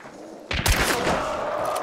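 Rapid pistol gunfire from Caldwell chain-converted handguns in a video game shootout erupts after a half-second of quiet, a dense close burst of overlapping shots that keeps rattling steadily to the end.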